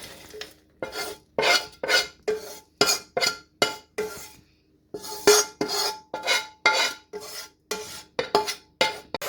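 A spoon stirs rice laddu ingredients in a metal pan, making a rhythmic series of about seventeen scraping, rasping strokes with brief pauses and one longer gap midway, close and clear with no talking.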